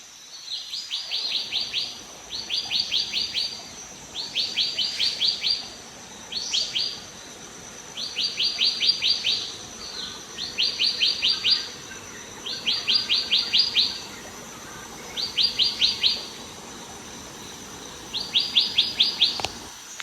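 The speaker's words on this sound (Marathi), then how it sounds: "पक्ष्यांचा आवाज एकदम मस्त येतो" Morning birdsong in a forest at a night-camping site, with about nine similar bright chirping phrases repeating at a steady rhythm over a quiet background.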